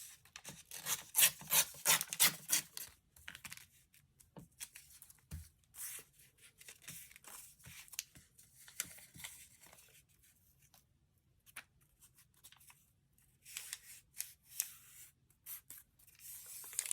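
Strips of paper are torn from an old agenda close by, a series of quiet rasping rips and crinkles that come in bursts with pauses between them.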